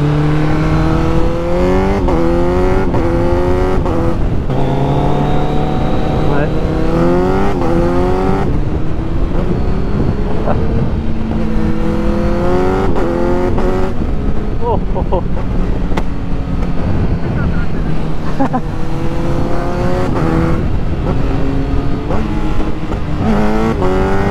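A 2021 Kawasaki Z900 motorcycle fitted with a quickshifter, ridden past and accelerating through rising, stepped gear changes, then downshifting with revs that rise and fall, loud and steady under wind noise, with a rider speaking over it.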